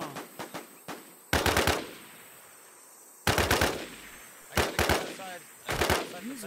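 Automatic gunfire in the online shooter WarZ during a player-versus-player fight, several sharp rapid bursts spaced a second or two apart, loud and close, with brief voice chatter between them.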